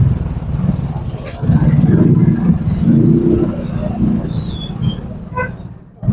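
A yellow multicoloured bus on a road near Ciparay in Bandung Regency passes with a low engine rumble that rises and lingers for a few seconds amid ambient traffic noise, with voices talking over it.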